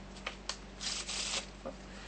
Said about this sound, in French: Je vais couper pile poil à moitié et je vais mélanger mon jeu.